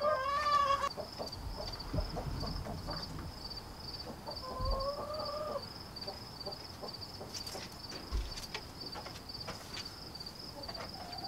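Chickens in a coop make a few soft, drawn-out clucking calls, one at the start and another midway, over quiet background noise with a steady high insect-like buzz and scattered faint knocks.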